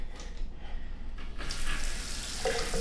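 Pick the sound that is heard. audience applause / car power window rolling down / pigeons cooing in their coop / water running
water running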